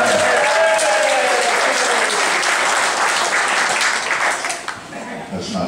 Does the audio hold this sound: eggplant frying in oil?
no